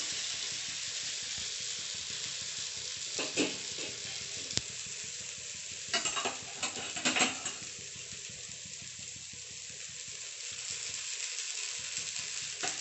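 Broken wheat (samba rava) dosa cooking on a pan with a few drops of oil, a soft continuous sizzle with occasional clinks and scrapes of a utensil, close and moderate in level, no speech.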